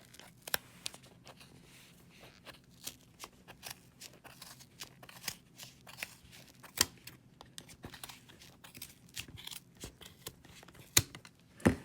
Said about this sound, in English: You're going to get the scissors right in the little gap, and you're just going to start cutting all the way around.